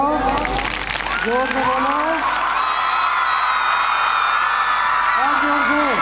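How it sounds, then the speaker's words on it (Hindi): An audience in a hall claps steadily under a loud voice over a PA, with crowd noise and a few cheers filling the background throughout. "हाथ उठाओ, ताली बजाओ,"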